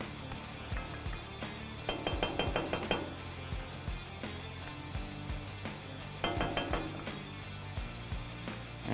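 Onions stirred in melted butter in a pan, a spoon scraping and clinking against the pan in repeated bursts with a low sizzle underneath, close and steady.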